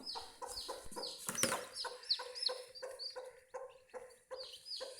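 A hen clucks close by in a quick run of short, repeated calls beside newly hatched chicks in a village setting, with the clucks rising and falling in bursts and no voices.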